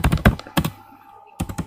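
A computer keyboard clacks in a quick burst of keystrokes as a school name is typed in capital letters, then goes quiet and starts again, loud and close.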